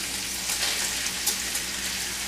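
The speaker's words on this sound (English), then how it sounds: "we're going to stir these together and let them saute" Bacon and diced onion sauté together in a hot pan, giving a steady, close sizzle with soft crackles and a few brief pops, with no talking over it.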